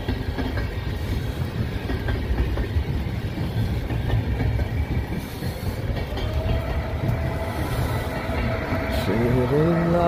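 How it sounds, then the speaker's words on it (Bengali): A train rolls past a station in Florence, Italy on a drizzly cold morning, with steady rumbling and clattering wheels close by and a rising squeal near the end, while a person talks over it. "এটা হচ্ছে ট্রেন স্টেশন আমার বাসার পাশে।"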